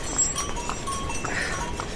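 Hooves of a horse carrying a rider on the Kedarnath pilgrimage trail near Bhimbali clop in a loose rhythm against steady outdoor noise on the mountain path.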